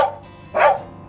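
A deaf dog gives two short, soft vocal yips or little bark-like sounds up close, the second louder and longer, with no one speaking.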